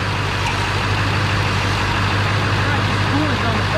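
A rebuilt Ford 7.3L diesel in a dually truck runs on its first test fire, giving a steady, loud, even idle rumble with faint voices underneath.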